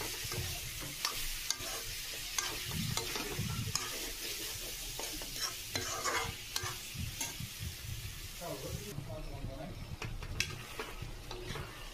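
Pork stirred in a pan with onion, ginger and garlic and a splash of water, cooked without oil outdoors in a village, giving a continuous sizzle with scraping stir strokes throughout, close and fairly loud.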